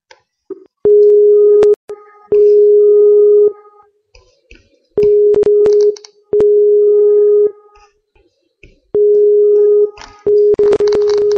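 An unanswered telephone call rings out as a loud, steady electronic tone in about five long bursts separated by short silences, with a few faint clicks in between.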